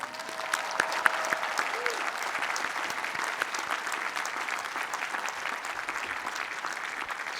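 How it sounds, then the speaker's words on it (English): Steady applause from a large audience at the 2019 MIT Commencement, dense clapping that carries on evenly throughout. "deserves a big round of applause"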